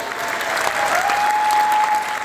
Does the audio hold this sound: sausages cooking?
no